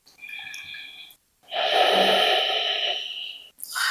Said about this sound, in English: Breathe in and out. Good, nice deep breath.